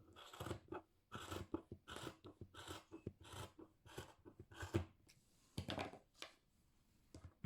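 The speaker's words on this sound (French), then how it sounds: "Alors, je prends les ciseaux et je coupe." Scissors snip through crochet yarn work for a wall-hung Christmas tree, a close series of crisp, irregular crunching cuts, about a dozen in quick bursts with brief pauses, no talking.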